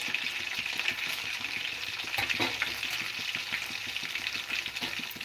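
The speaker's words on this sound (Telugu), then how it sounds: "గోంగూర పచ్చడి కోసం అయితే ఇదిగో పోపు వేస్తున్నాను" Tempering spices frying in hot oil for gongura (sorrel leaf) chutney, a steady close crackling sizzle with scattered sharp pops throughout, no talking.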